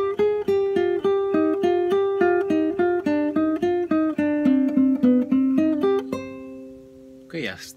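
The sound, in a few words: guitar playing an intro phrase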